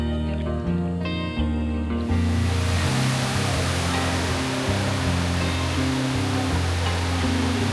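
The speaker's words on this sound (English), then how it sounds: "This is the La Bassine waterfall. It's actually the spillway for Escudero Hydroelectric Plant." Water pours down the La Bassine waterfall, the spillway of the Escudero Hydroelectric Plant in Quezon Province, as a loud, continuous broadband roar that swells and then holds steady throughout.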